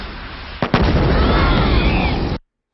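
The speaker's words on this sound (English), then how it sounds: "He can shoot explosions from his third eye." Combustion Man's attack in the Avatar: The Last Airbender cartoon sets off a loud, close explosion: a sharp burst followed by a roaring, crackling blast that sustains for nearly two seconds, then cuts off abruptly.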